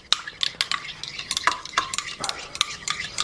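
A spoon stirs homemade Tim Hortons-style coffee in a cup, giving a run of quick, bright clinks and scrapes against the sides, fairly close and steady, with no talking.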